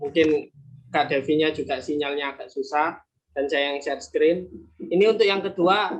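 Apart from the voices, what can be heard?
No everyday noises stand out.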